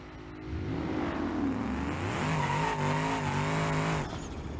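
A car engine in BeamNG.drive revs up and holds at the rev limiter, pitch wavering and bouncing rapidly before dropping off, loud and continuous with no talk.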